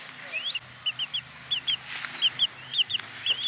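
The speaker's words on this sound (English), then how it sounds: "He might be a rooster, I'm not sure." A young chicken, maybe a cockerel, gives a run of short, bright clucks and chirps in quick uneven bursts, close and clear over a quiet background.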